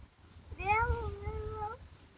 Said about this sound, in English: Finally found one cat.